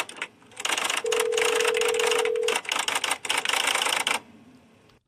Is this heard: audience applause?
no